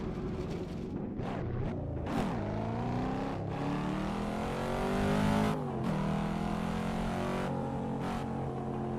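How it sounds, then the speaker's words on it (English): Cadillac CT5-V Blackwing engine in a racing video game, revving hard through repeated upshifts with rising pitch sweeps and brief drops between gears, loud and continuous with no talk. "I'm driving the Cadillac CT5V Blackwing in the game"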